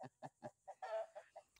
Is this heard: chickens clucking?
yes